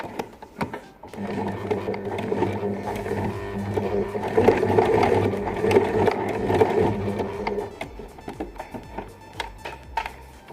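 A regular sewing machine stitches an embroidery neck design, whirring in quick rapid bursts up close that swell in the middle and stop and start toward the end, with no talk over it.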